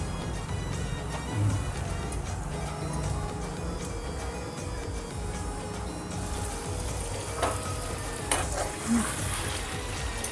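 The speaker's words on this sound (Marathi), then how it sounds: "कोलंबी आणि बटाटा व्यवस्थित शिजत आला आहे." Prawns and potatoes sizzle steadily in a pan as they cook, giving a continuous frying hiss that holds throughout, with a few faint clinks and bumps toward the end.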